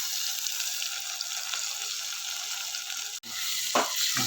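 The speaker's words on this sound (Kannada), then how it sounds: "ಇವಾಗ ಇದಕ್ಕೆ 2 ಚಮಚ ಶುಂಠಿ ಬೆಳ್ಳುಳ್ಳಿ ಪೇಸ್ಟ್ ಹಾಕ್ತಾಯಿದ್ದೀನಿ" Ginger garlic paste sizzles in hot oil with onions and green chilies for a chicken gravy, a steady close frying hiss with a brief stir and clatter near the end.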